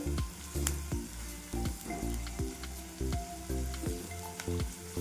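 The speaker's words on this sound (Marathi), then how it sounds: "कांदा टाकून घेईल छान कांदा आहे ना भाजून घेऊत आपण तेलामध्ये" Onion frying in oil for a potato bhaji, with a loud continuous sizzle broken by rhythmic scraping strokes of a spatula across the pan, close up with no talking.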